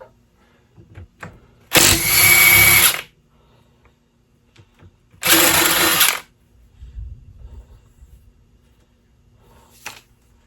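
Power tool work on the head cover bolts of a 1952 Johnson 5 HP outboard: two loud bursts of whirring, each about a second long, with quiet clinks and handling noises between them and no talk.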